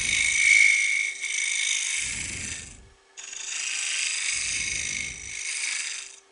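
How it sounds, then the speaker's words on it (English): A full round scraper cleans up the inside of a hollowed wooden piece in two long, close scraping strokes, each with a bright rasping hiss and a low rumble, separated by a brief pause. "Now, what I use a full round scraper like this"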